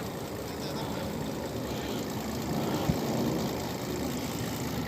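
A Mercedes-Benz Actros 3340 truck engine, with low pulling power, runs steadily during a cylinder 5 check, a rough continuous diesel rumble heard close, with one brief knock partway through.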